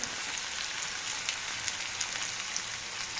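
Onion for batata poha sizzles in hot oil, a close, continuous crackling hiss with scattered sharper pops throughout.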